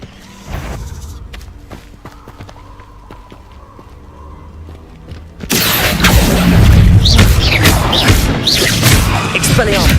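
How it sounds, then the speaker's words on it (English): A Hogwarts Legacy summoning spell starts as a quiet stretch of soft thumps, then bursts into a loud, sustained rush of magical crackling and whooshing that lasts to the end. "Accio!"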